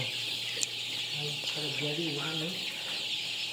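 Sonali chickens around nineteen days old cluck softly in a farm shed, a few low calls rising over a steady hiss of background noise, with faint distant voices.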